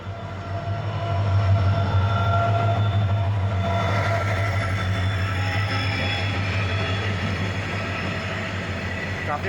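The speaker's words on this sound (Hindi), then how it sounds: "डीजल इंजन है दोस्तों ये।" A diesel train carrying railway sleepers for laying track rolls past close by, a loud, continuous rumble with a low engine drone and rattling wagons that swells early and holds steady throughout.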